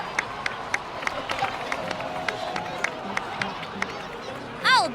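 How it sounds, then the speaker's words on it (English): In the video game Genshin Impact, a crowd applauds with scattered, sharp individual claps over a soft murmur of voices, ending with a brief rising chime-like tone. "please give another round of applause for them"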